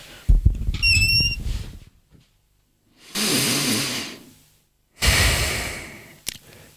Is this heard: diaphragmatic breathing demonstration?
yes